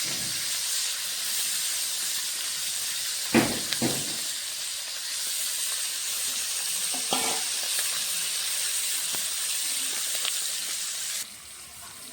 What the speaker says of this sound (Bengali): সম্পূর্ণ মাছ একবারে ভেজে নেব